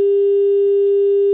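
A steady telephone line tone drones from a phone in another room, one unbroken pure pitch with faint overtones, holding evenly throughout.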